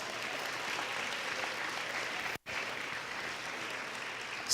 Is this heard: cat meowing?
no